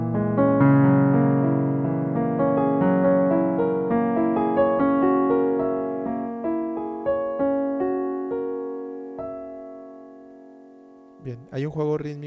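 Piano playing the opening bars of Debussy's Arabesque, a flowing run of sustained notes that gradually fades, then a brief burst of speech near the end.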